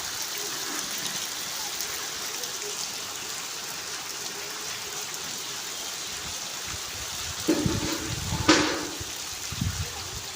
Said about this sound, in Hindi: तूफ़ानी बारिश का सिलसिला दोबारा शुरू हो गया है